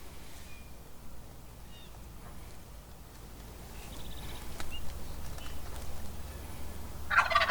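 Quiet outdoor ambience with faint bird chirps, then a single wild turkey gobble rings out at the very end, moderately distant.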